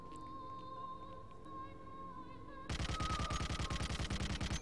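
Gunfire in the Hitman Blood Money video game, a steady, loud burst of rapid repeated shots that cuts in abruptly after a droning tonal background and keeps going to the end.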